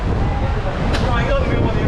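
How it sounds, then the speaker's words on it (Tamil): Strong cool wind buffeting the microphone atop a seaside viewing tower at Kanyakumari, a loud continuous rushing roar with no talk. "சரியான காற்று, சில்லுன்னு காற்றடிக்குது"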